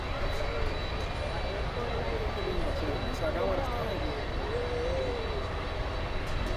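Distant Boeing 767 jet airliner on the runway at Miami International Airport, a steady broad engine roar with a faint whine, heard under ongoing talk from nearby plane spotters.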